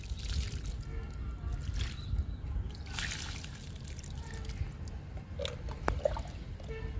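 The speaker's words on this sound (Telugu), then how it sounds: "రణపాలకి వాటర్ ఇస్తున్నా" Water trickles and dribbles from a pouring stream onto soil around a Ranapala plant in a tub, with soft splashes and drips close by, and quiet background noise throughout.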